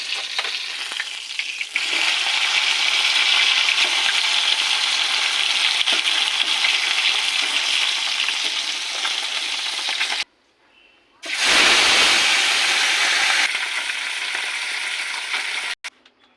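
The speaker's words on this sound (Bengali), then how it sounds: "মাছ তেলে ভাজছি" Loud, continuous sizzling of fish frying in hot oil, close up, with a brief silent gap before the crackle resumes.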